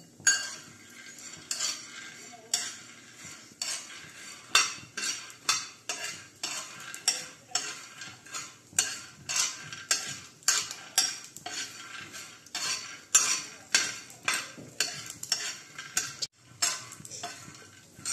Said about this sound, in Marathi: चला आता आपण चटणी करून घेऊया। चटणी करून घेऊया, त्यासाठी शेंगदाणे भाजून घेऊया आपण।